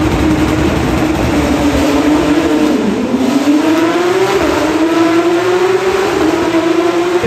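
Porsche Supercup race cars at the start of a race in Monaco, engines roaring loud and close in a continuous wall of sound, the pitch sagging then climbing again as they rev, with no voices.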